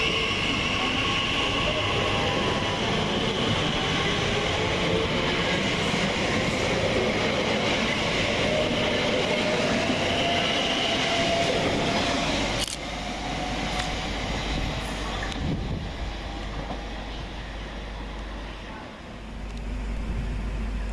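A Class 345 electric train departing Goodmayes railway station, a loud, close, continuous rumble and rising motor whine that eases off toward the end as the train pulls away.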